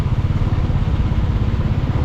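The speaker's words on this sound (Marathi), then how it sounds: "जवळ येत चाललो आहे मुंबईची ट्रॅफिक." Motorcycle engines idling and puttering in a heavy Mumbai traffic jam after rain, a loud, close, steady low chugging with no voices.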